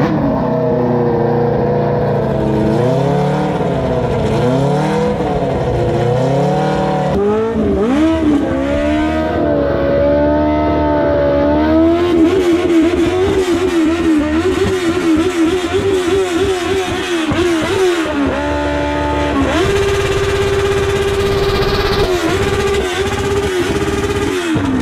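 A car at the Albi Fast Run revs hard and drifts, engine pitch swooping up and down in repeated rising and falling sweeps, loud and close, with tyre and exhaust roar continuous throughout and no voices.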